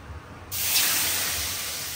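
Water hits a hot pan of burnt garlic and bursts into a sudden loud, steady hiss that holds and slowly fades, close up, after a quiet moment with no talking.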